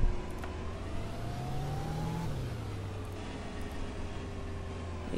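Bus engine in the OMSI 2 bus simulator game, set on the Liberty map's B32 route, pulling away with a steady mid-low drone whose pitch rises and falls, fairly distant and continuous with no talking.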